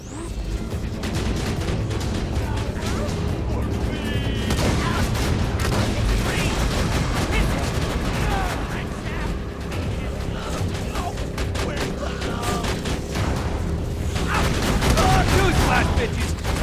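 Turret gunfire in the Borderlands 2 video game: dense, loud, continuous automatic fire with crashing impacts and mechanical clatter, dominating throughout.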